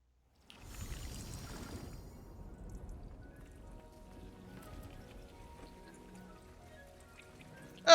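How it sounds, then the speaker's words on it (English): Rain patters in the video game Hogwarts Legacy, a soft, steady hiss of drops that starts suddenly and holds at a low level, with faint tonal game ambience underneath. "I haven't seen it doing the rain thing before."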